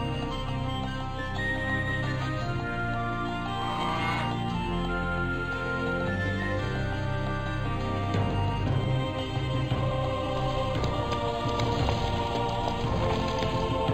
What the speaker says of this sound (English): Heavy rains turn into a deluge, and a field is lost as swelling rivers burst their banks.